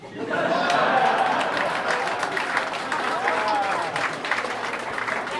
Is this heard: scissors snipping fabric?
no